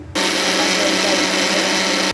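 A mixer grinder grinding chutney whirs loudly and steadily for about two seconds, starting and stopping abruptly with a high-pitched motor whine.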